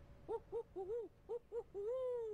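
Person imitating an owl with a series of six short hooted calls in quick succession, then one longer drawn-out hoot, close and clear over a quiet background.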